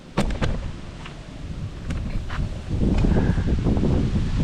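Strong wind sweeping across a farm, a steady rushing roar with close buffeting gusts against the microphone that grow heavier toward the end, with no voices.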